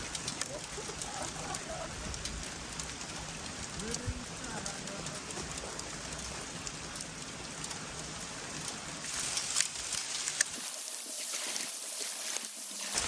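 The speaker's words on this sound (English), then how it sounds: "No, that's hail." Hail clatters outdoors at night on the Isle of Skye in Scotland, a dense steady patter of small hits with a brief burst of louder impacts near the end, and people talk over it.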